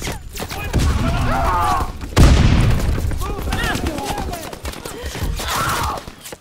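Dense Call of Duty: WW2 gunfire with a heavy boom partway through, loud and continuous battlefield noise under in-game voice callouts.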